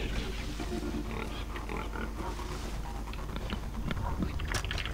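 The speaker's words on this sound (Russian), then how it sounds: "Свинья не так популярна на Рук-Айленде, как кабанятина." A pig grunts and oinks in the video game Far Cry 3, set on Rook Island, with scattered close grunts over a constant outdoor background of wind and ambient noise.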